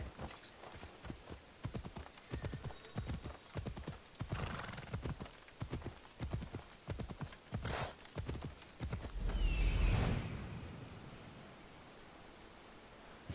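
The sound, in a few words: horse hooves while riding, from video game Assassin's Creed Odyssey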